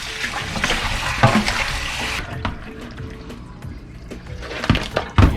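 Tap water runs steadily over raw chicken drumsticks being washed before frying, a hissing splash with a few brief louder splashes near the end.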